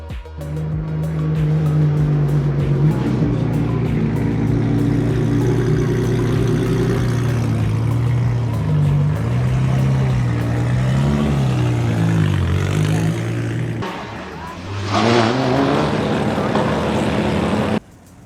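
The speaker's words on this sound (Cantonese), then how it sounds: "睇下架車啲引擎聲咪真係咁實淨先" A car engine revs and holds a loud, steady drone, pitch rising and falling, then drops off briefly before roaring back up near the end.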